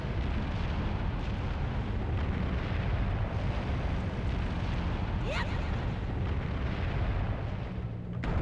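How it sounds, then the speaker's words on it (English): Loud rumbling and crashing of rocks falling from the ceiling in The Legend of Zelda: The Wind Waker, a continuous heavy roar with scattered impacts across the whole stretch. "there's freaking rocks falling from the ceiling"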